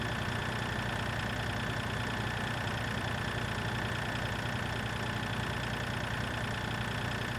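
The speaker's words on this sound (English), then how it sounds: "We've been driving all around this whole map with this car, this tractor." A tractor engine in Farming Simulator 2013 idles steadily, a constant low rumbling drone with a slight knocking pulse and no change in pace.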